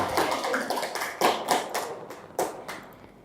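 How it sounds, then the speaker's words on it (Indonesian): A small group in a classroom claps in sparse, uneven bursts, a handful of distinct sharp hand claps rising and fading rather than a dense ovation, fairly close. "Tepuk tangan buat kita semua."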